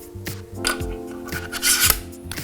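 A metal iPad holder slides onto the 15mm rods of a teleprompter base, making short scraping and rubbing sounds with light metallic clicks, close and fairly quiet, with no talking.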